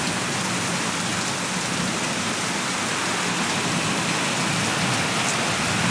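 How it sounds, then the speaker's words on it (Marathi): Heavy night rain in Nanded district pours down in a dense, unbroken roar that stays steady and loud from start to finish, with no voices. "भरपूर पाऊस आहे."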